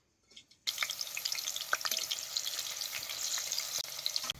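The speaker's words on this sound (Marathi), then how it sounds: "तेलात चिरलेल्या हिरव्या मिरच्या घालतो." Chopped green chillies hit hot oil in a kadhai with a sudden loud hiss, then a dense, crackling sizzle with pops and stirring sounds carries on close by.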